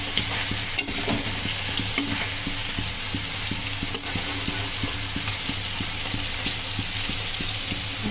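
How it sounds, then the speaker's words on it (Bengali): Tengra fish and water spinach fry in hot oil, giving a steady close sizzle with faint regular ticks and a few sharp pops throughout. "আর এই পাশে মাছ ভাজি হচ্ছে"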